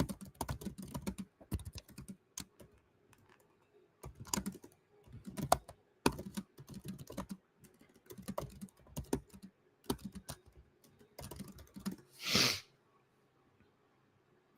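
Typing on a computer keyboard during a live hurricane update, heard as quiet bursts of clicking keystrokes in irregular clusters, with a single sniff or snort near the end and no speech.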